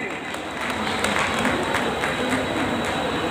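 Hall audience claps loudly for journalists at a Babasaheb Ambedkar 132nd birth anniversary gathering in Delhi; a dense, continuous wash of clapping from a large crowd, with a faint steady hum underneath.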